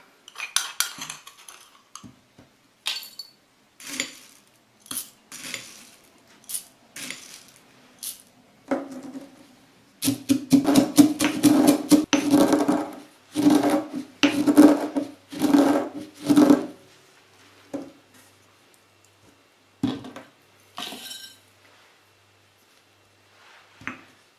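Hard coffee beans with cinnamon, vanilla and cloves clatter into a glass jar in a series of sharp rattling bursts, with a dense cascade in the middle and quieter scattered drops before and after.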